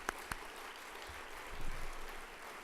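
Moderate applause from a green tourism awards audience for a museum's highly commended award, a steady wash of clapping with a couple of sharp taps at the start and a brief low rumble midway.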